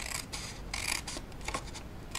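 Scissors snipping through paper packaging for an Easter gift box, a run of close, crisp rasping cuts in quick succession with short gaps between strokes.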